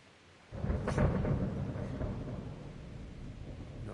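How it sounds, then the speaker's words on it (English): Thunderstorm in the medieval RPG Kingdom Come: Deliverance, a sudden loud rumble of thunder cutting in after a quiet start and then rolling on as a steady heavy roar of rain and storm noise. "Not afraid of thunderstorms,"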